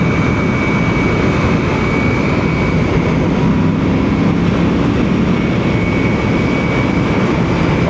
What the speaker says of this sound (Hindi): मुझे आवाज़ आ रही है इसके इंजन की यहाँ से।